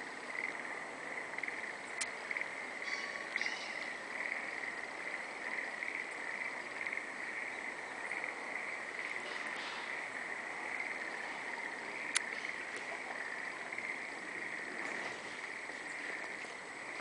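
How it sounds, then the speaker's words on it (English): Frogs croak in a field in spring, a continuous dense chorus of trilling calls steady throughout, with a couple of sharp clicks and faint background noise but no talking. "Frogs are croaking."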